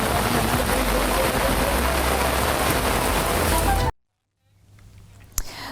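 Heavy monsoon rain pours steadily during a cloudburst near the Amarnath cave, a dense loud hiss for about four seconds before cutting out abruptly, followed by quieter ambient noise with a brief sharp knock.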